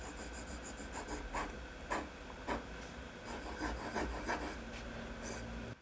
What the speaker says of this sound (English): It's almost making a whistling noise on the paper.